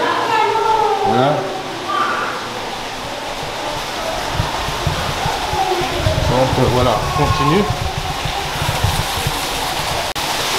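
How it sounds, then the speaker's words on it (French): A waterfall at a zoo gives a steady hiss of rushing water, moderately loud and continuous, while people talk over it. "là on est dans une cascade apparemment"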